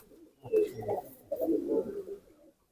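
Pigeon cooing from a white-eyed female pigeon, two soft throaty coo phrases close by with a brief pause between them and no talk over them.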